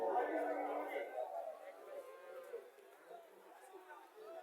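A dairy cow that gives about 16 litres of milk moos at a cattle sale, a deep drawn-out low call at the start, while people talk nearby.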